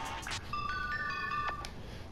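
A mobile phone ringtone plays from the settings menu in Grand Theft Auto V on PS4. A short sequence of bright electronic tones rises in steps, preceded by quick menu clicks. It is fairly quiet and has no voice over it.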